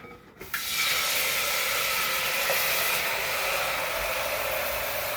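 Hot English toffee mixture bursts into a loud, steady, close hissing sizzle after a brief quiet moment, the broad frying noise holding evenly to the end.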